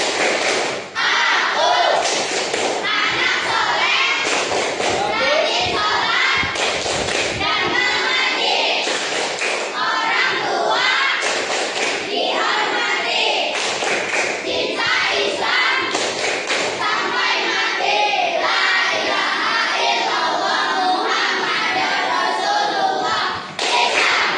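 Schoolchildren in a classroom perform the tepuk anak soleh clapping chant, loud rhythmic group claps and thumps mixed with chanting voices that keep going for the whole span.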